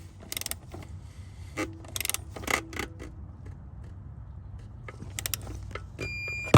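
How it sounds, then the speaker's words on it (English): Tightening a part to 19 foot-pounds during a 2022-2026 Hyundai Tucson oil change brings several quick clicking ratchet-like bursts and small metallic clicks, fairly close and quiet, ending with a louder clunk. "Now we're going to tighten this to 19 foot-pounds"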